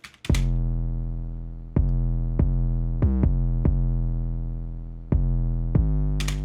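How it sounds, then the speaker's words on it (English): Deep, booming 808 bass notes sustain under a sparse beat, each new hit retriggering the low tone in a slow, steady pattern. "Now let's hear that with the 808."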